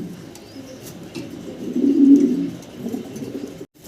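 Domestic pigeons coo nearby in a low, soft, rolling murmur that swells in the middle and then fades, with faint chirps in the background and no voices.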